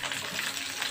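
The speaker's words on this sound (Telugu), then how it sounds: "పచ్చిమిర్చి, శనగపప్పు వేసేస్తున్నాం." Green chillies and chana dal sizzle and fry in hot oil, a steady close crackling hiss that stays even throughout, with no talking.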